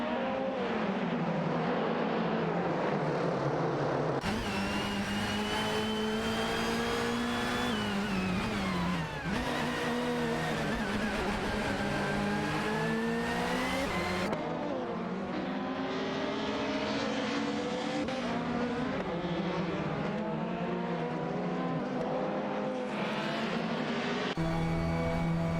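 Simulated race cars, Ford Mondeo 98 touring cars in an AI racing sim, drone past continuously with harmonic engine whine rising and falling through gear changes, several cars overlapping, loud and steady with no talk.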